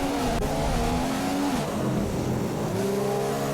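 Formula 1 racing cars passing in the F1 2015 video game, high-pitched engines screaming and shifting pitch as they go by close, with the player car's own engine droning steadily underneath, no talking.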